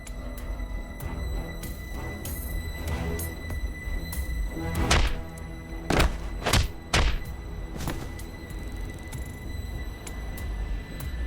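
Punches and kicks land on a character in the video game AI: The Somnium Files - nirvanA Initiative, heard as several sharp thuds and thumps clustered together over a steady game background, with no talking.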